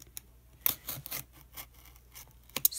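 Scissors cut down the middle of a cardboard box, a few close, crisp snips and scraping rasps spaced unevenly in a quiet room.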